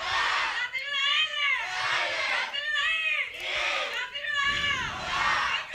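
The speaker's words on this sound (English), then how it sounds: "the amazing loud cheering of the Italian team" Loud, sustained crowd cheering and shouting from the Italian team's supporters at a youth recurve archery team gold-medal final, rising in repeated waves of voices with whoops and chants throughout.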